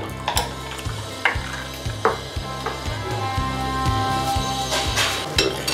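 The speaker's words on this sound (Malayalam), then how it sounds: "ഇതിപ്പം പുളിവെള്ളമൊക്കെ ഇങ്ങനെ തിളച്ച്" Tamarind water with chopped ginger bubbles and sizzles in a pan while a spoon stirs and scrapes in a steady repeating rhythm, close and fairly loud with no talking.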